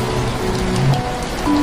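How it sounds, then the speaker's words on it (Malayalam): Heavy rain pours steadily outside in a dense, even hiss that never lets up, loud and close, with no voices over it. "അമ്മയെ, പുറത്ത് നല്ല മഴയാണ്."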